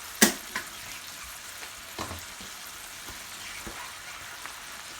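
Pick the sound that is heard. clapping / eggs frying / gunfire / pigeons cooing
eggs frying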